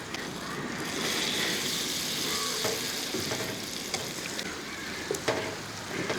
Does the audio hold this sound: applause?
no